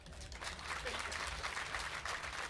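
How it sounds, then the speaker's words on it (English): A live audience applauds to vote during a talk event, with a brief, fairly faint wash of scattered clapping and crowd noise lasting a couple of seconds. "clap if you think Bond has to be a man"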